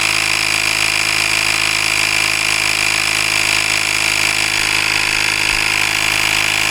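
Auxito portable air compressor filling a motorcycle tire, a loud, steady motorized buzz with a bright, hissing whine, running continuously and close up with no pauses or talk.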